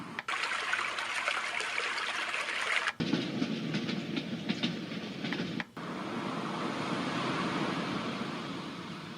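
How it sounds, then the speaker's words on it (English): Waves crashing at the beach played as a soothing sound setting on a sound machine: a continuous broadband wash with a few abrupt cuts, steady and unaccompanied by talk. "Waves crashing at the beach."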